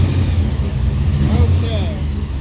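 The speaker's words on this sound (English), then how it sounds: "we're getting that surge that people love in a supercharger" A supercharged 1955 Chevy engine revs with a surge, giving a close, steady low rumble for a couple of seconds with a faint voice murmuring underneath.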